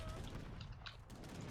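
Heavy artillery cannon fire in a real-time strategy battle game, a few dull booming blasts mixed with battle noise, moderately loud and continuous.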